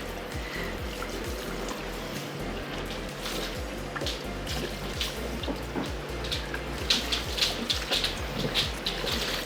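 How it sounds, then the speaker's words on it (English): Running water from a salon basin rinses a hair repair treatment out of a client's hair, a steady close hiss and splash with small shifting bursts throughout, no talk over it. "We're gonna wash it out again."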